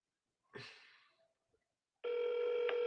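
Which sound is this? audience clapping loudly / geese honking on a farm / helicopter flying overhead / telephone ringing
telephone ringing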